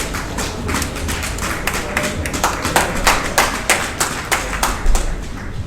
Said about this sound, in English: Can we give the president a better round of applause?